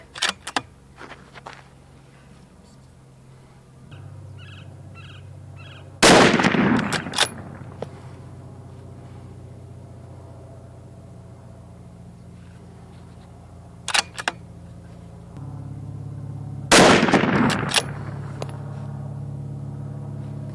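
Scoped rifle, an Arken Optics EP-5 5-25 FFP, fires two sharp, loud single shots well apart, each with a short echo tail over quiet outdoor background noise.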